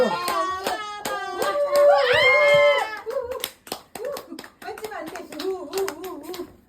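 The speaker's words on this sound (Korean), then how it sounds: "박수 박수 박수" Family members clap their hands at a baby's first birthday party at home, a few sharp claps scattered between a voice and chatting adults, close and lively.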